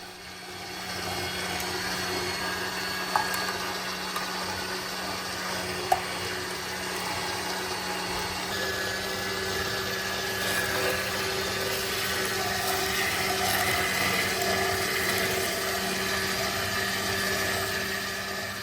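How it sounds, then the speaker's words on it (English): Ventray Ginnie compact juicer pressing watermelon, a steady continuous motor whir with wet churning, close and even throughout with no talking. "The Ginnie Juicer had no issues juicing watermelon, but then again it was mostly water content"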